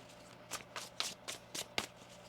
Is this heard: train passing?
no